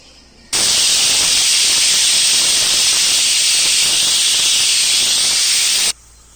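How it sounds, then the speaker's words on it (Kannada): A pressure cooker on a gas stove vents a loud, continuous, high-pitched steam whistle while cooking vegetable sambar, holding steady for several seconds before stopping suddenly. "ಈಗ ಕುಕ್ಕರ್ ಮುಚ್ಚಿಬಿಟ್ಟು ಒಂದು 4 ವಿಸಿಲು ನಾವು ಕೂಗಿಸ್ಕೋಬೇಕು"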